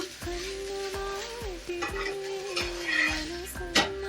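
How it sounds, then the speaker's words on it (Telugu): A dosa sizzles on a hot pan while a metal spatula scrapes and taps against it in repeated strokes, with a faint steady hum beneath and a sharper clatter near the end. "చూడండి దోశ బాగా కాలింది ఇలా తిప్పుకొని ఒక రెండు నిమిషాలు కాలిస్తే చాలు"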